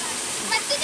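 Waterfall at a farm outing, a steady broadband rush of falling water filling the whole moment, with small splashes rising near the end.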